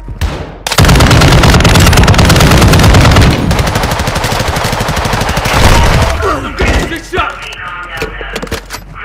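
Loud, dense automatic gunfire in Call of Duty DMZ, sustained bursts of rapid shots for several seconds that thin out into scattered shots and clatter toward the end.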